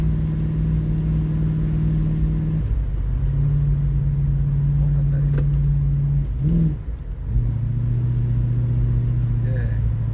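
A 318 V8 car engine cruising on a street test drive, a steady close drone with slight shifts in pitch and a brief dip partway through.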